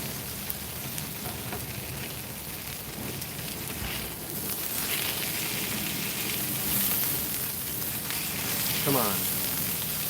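Costra taco frying on a non-stick griddle, throwing off lots of grease, with a steady broadband sizzle and crackle running throughout at close range.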